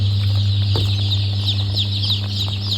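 A brood of Rainbow Rooster chicks peeps and clucks in quick overlapping bursts, close and continuous above a steady mechanical drone.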